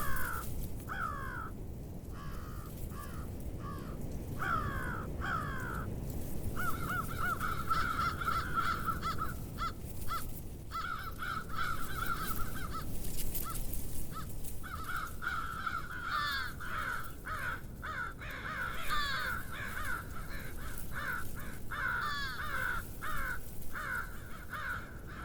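Crows caw repeatedly in bursts near a carcass outdoors in Wisconsin winter, harsh calls layered over steady wind or ambient rumble, with a long continuous stretch of calling midway.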